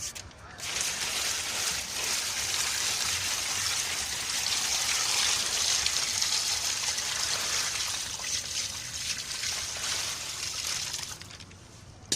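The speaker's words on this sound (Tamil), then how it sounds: "இதில் வந்து தண்ணி எடுத்துருவோம்" Water pours in a steady, rushing stream onto coconut fibre in a large plastic bag for several seconds, close by, then tapers off.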